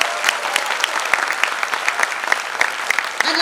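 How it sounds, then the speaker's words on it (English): Audience applause at a Republic Day event, a room full of people clapping with individual claps audible, steady and moderately loud, swelling slightly at the end. "Huge round of applause for our country."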